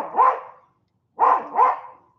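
A pet dog barking indoors, one sharp bark followed after a pause by two quick barks in a row, close and loud against an otherwise silent room.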